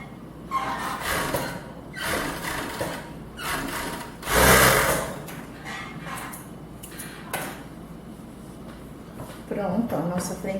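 An overlock sewing machine stitches lace fabric on underwear in bursts of fast whirring, with clattering handling noises between runs and someone speaking Portuguese over the work.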